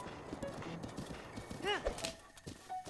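A horse gallops with rapid clip-clop hoofbeats in the video game Zelda: Breath of the Wild, and a short whinny comes partway through. The sound is faint, with a voice talking over it.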